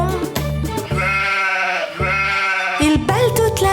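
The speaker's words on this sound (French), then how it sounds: "Il bêle toute la journée" A sheep bleats several times in a row, loud and near, in a children's nursery-rhyme song set on a farm, with the calls heard over the music and no words sung.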